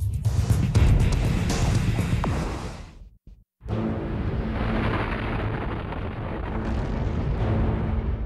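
A dramatized asteroid impact explosion for a documentary: a deep, roaring blast that booms and rumbles, cuts to near silence, then resumes as a long, sustained rolling roar with a high hiss layered on top.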